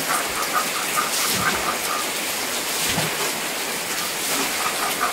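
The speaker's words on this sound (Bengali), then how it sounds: "এদিকে বৃষ্টি হচ্ছে" Steady rain falls outside a home kitchen in Kolkata, a continuous broadband patter holding even across the whole stretch with no voices over it.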